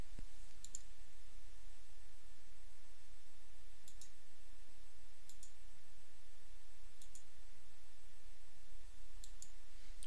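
Mouse clicks while drawing a marine protected area shape in mapping software: a few sharp, isolated clicks spaced several seconds apart over a steady low background hum, with no talking.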